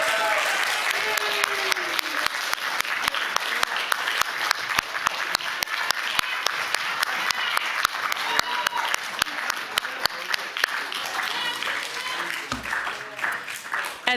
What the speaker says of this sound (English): Another round of applause for all of our graduates.